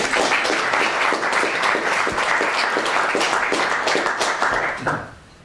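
Audience applause at a Theosophy Society panel discussion in Chester, a steady dense clapping from a room of people that holds for about five seconds, then tapers off quickly at the end.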